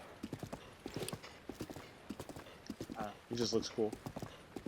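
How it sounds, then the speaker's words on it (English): Hooves of a video-game horse clip-clop in a quick rhythmic patter as it gallops closer, with a whinny near the end and a voice talking over the hoofbeats. "you can grab the horse while it's galloping towards you"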